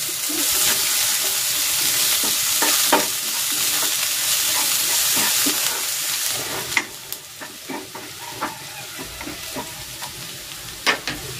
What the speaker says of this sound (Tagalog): Igigisa ko na rin tong sibuyas.